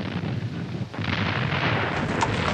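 Artillery bombardment in archival war footage: a continuous, heavy rumbling roar of distant blasts that briefly dips, then swells back into a dense, loud barrage.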